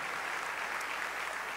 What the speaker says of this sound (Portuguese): Vamos aplaudir com alegria essa serva de Deus.